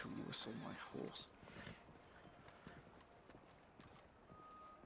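Steady clip-clop of horse hooves trotting along in the game WildRP, with brief low talk near the start and soft ambient game sounds behind.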